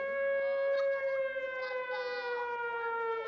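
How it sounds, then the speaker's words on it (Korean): A steady emergency siren wails continuously, its harmonic tones holding at a loud, even level with slight pitch wavering throughout. "비상 상황에 울리는 사이렌 소리예요"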